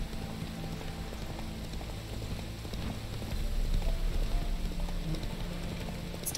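A horse gallops in a video game, its hooves thudding as a fast, muffled clip-clop over a rushing, rain-like ambience, getting louder midway.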